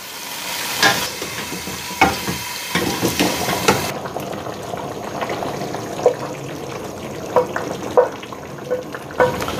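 Coconut milk is poured into a simmering chicken curry, a wet sizzle and bubbling with clinks of a spoon stirring in the pan, close and moderately loud.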